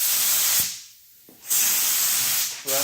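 A paint spray gun hisses loudly in bursts while coating a damaged bumper cover: one long spray pass, a short pause, then another sustained pass, close and harsh.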